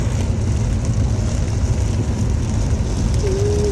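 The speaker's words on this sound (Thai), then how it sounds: "ฝนตกหนักครับฝนตกหนักขับช้าๆนะครับ" Heavy monsoon rain pounding on a car while driving, a dense, loud, steady roar of water with road noise underneath.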